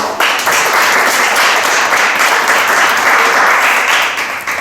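Steady, dense applause from an audience at an advanced training session, loud and sustained for several seconds, easing slightly at the end.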